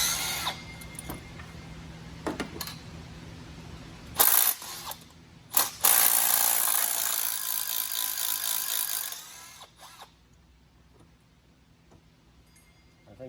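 An impact wrench works bolts loose on a Bermuda Blue Chevrolet Suburban, firing a couple of short hammering bursts and then a longer rattling run, mixed with metallic clinks of tools nearby.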